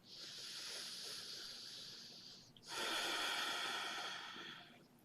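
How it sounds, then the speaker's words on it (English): Two long, slow breaths during a relaxing face yoga exercise: a soft airy inhale, a brief pause, then a fuller, louder exhale, close and breathy with no talking. "take a nice breath here"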